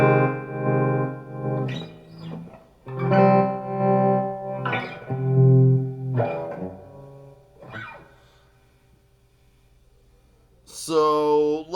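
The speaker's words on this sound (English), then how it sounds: "So let's go through the different speeds here. Let's go real slow." Electric guitar played through a Keeley Mod Workstation modulation pedal set to slow speed: several sustained, ringing chords and notes with a slow, swelling modulated shimmer, a pause near the end, then a final strum.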